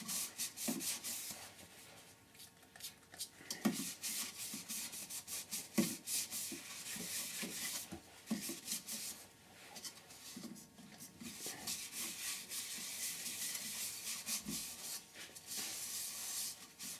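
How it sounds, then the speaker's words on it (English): Sanding sealer being rubbed onto a turned wooden bowl: steady abrasive rubbing, a continuous hissy scrubbing with rhythmic strokes and occasional soft knocks, close and fairly quiet. "we'll put some sanding sealer on it now"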